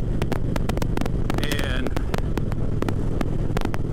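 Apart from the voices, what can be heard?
wind noise while riding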